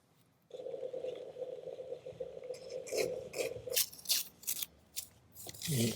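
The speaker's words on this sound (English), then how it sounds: "I'm just going to tear the edges." Coffee-dyed paper torn along its edges by hand, a steady papery rasp with a few sharper rips near the end, close and alone.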